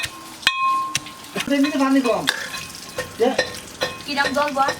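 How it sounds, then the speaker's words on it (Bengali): Cumin seeds frying in oil in a large pot for an iftar biryani, bursts of crackling and spatula scraping with metal clanks, while a voice talks between the sizzles. "জিরাগুলো ভেজে নেওয়া হচ্ছে"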